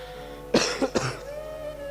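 A short burst of two or three close coughs from a speaker with a week-long cough, sharp and loud, followed by a quiet hum of background tone.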